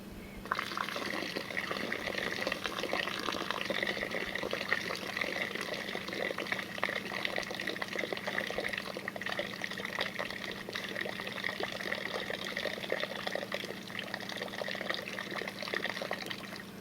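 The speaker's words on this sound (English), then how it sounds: "I'm going to pour it from a height. And when I do, it is going to shock the grounds." Water is poured from a height onto coffee grounds, a steady splashing trickle that runs for over fifteen seconds at moderate volume with a faint low hum beneath and no talking.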